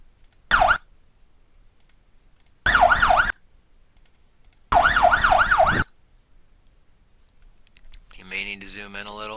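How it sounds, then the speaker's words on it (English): An emergency vehicle siren sample for GTA IV plays in three separate wailing bursts, each rising and falling quickly in pitch, with gaps of silence between them and a different warbling tone starting at the end. "find a clear spot of the siren you want to use"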